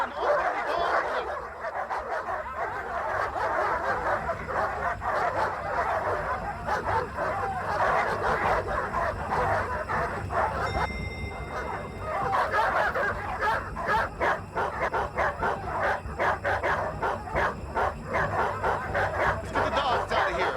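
Dogs bark loudly and continuously, several animals yapping and whimpering close by in a building with an elevator shaft, a frantic, unbroken stream of barks with some background commotion.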